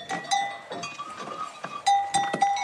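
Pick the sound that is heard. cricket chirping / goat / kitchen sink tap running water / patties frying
goat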